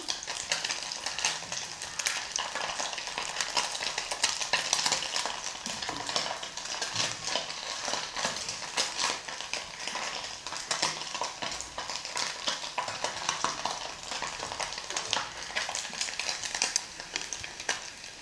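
Anchovies (nethili fish) frying in a non-stick kadai, a steady dense sizzle and crackle of hot oil running continuously at moderate loudness, with occasional stirring scrapes and no voices.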